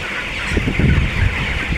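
Chickens on a poultry farm cluck in a shed with a cooling fan and spray running, several short calls rising over a steady broadband whir, fairly close.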